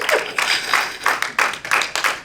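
A congregation at a Spanish-language worship service claps in loud, rhythmic unison bursts, about six strong beats over a couple of seconds, close and energetic with no talking.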